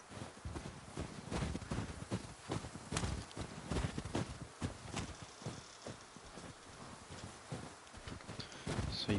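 Horse hooves clip-clopping at a steady walking rhythm in The Last of Us Part II, set in Jackson township, close and fairly quiet, with no talk over them.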